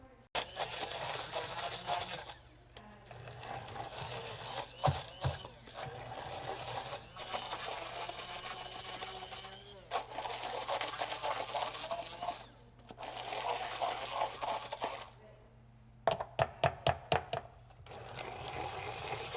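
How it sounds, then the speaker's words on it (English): A kitchen blender whirs as it purees tamarind into a thick paste for a Thai sweet and sour prawn soup, running in steady motor bursts separated by short pauses, ending in a quick series of rapid pulses. "And once I blend it into a paste, I'm gonna put it back in the pan and reduce it down even a little bit more."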